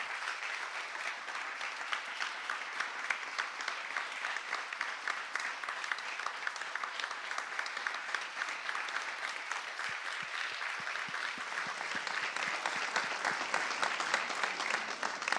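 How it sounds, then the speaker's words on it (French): Church congregation applauding the cleaning team during Sunday service announcements, a long, even stretch of many hands clapping at moderate distance, steady and unbroken, swelling slightly toward the end. "on va vraiment vous honorer et vous applaudir"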